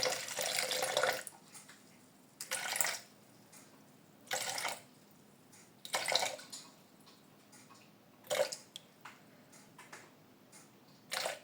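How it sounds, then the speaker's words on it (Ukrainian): About 150 grams of water poured into a bowl for a bread starter in a home kitchen, heard as several short close splashing bursts separated by quiet pauses. "Далі даю водички 150 грамів, прямо сюди."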